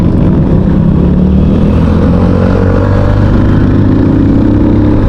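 Big bike motorcycles on the road roar steadily nearby, a loud continuous engine drone with heavy wind rush that stays constant throughout, the riding sound of a Rusi Macho TC 150 blending in.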